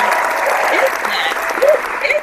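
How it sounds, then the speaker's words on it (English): An audience claps steadily and densely throughout a live talk show about relationships, with voices calling out and talking over the applause. "Let me give this guy a round of applause."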